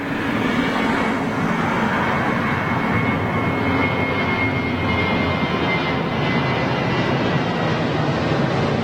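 Heavy Airbus A330 jet departing Gatwick Airport, a sustained, fairly loud engine roar with a steady high whine that stays constant for the whole stretch.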